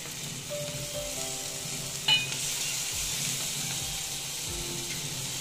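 Tomatoes going into hot oil for a soya chunk and potato curry, giving a steady close sizzle with spattering, a sharp clatter near the middle and low stirring scrapes throughout.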